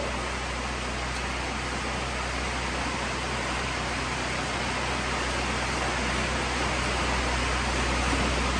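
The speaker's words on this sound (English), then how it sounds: "I got the generator on. It's really loud" A generator runs loudly in a garage during rain, a constant, even roar of broadband noise with a steady low hum that fills the whole stretch without changing.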